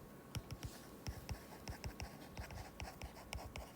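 Chalk or marker strokes on a board during a complex analysis lecture, coming as a string of short, quiet, dry taps and scrapes in an uneven rhythm over a faint room hum.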